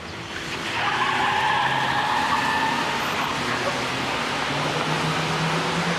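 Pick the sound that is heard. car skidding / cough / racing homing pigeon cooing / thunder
car skidding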